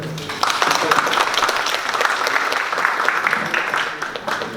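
An audience at a textile industry policy forum at the National Assembly applauds steadily, a dense continuous patter of many hands, with a voice speaking over it.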